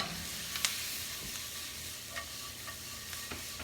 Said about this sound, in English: I want to saute off my remaining ingredients